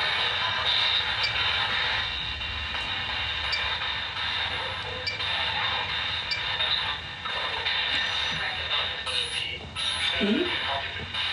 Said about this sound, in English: What you're hearing is the spirit box.